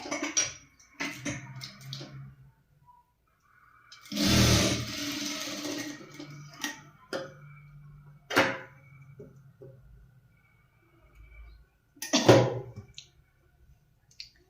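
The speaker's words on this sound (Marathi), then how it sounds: "तर सर्वात पहिल्यांदा इथे आता मी सेंटर मध्ये शिलाई मारते" A sewing machine runs in a few short bursts, stitching down the center of the fabric, with quiet pauses and light handling clicks between runs.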